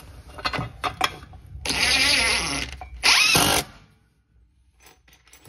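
A power drill driving screws through an oven anti-tip bracket into a wall, two close whirring bursts of about a second each separated by a short pause, with light handling clicks around them.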